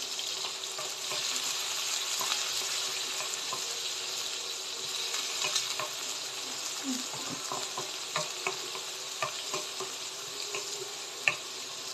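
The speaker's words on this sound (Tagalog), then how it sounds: "Matalsik yung mga mantika eh." Oil with a little water in it sizzles and spatters in a pan, a steady hiss broken by frequent sharp pops and crackles, with one louder snap near the end.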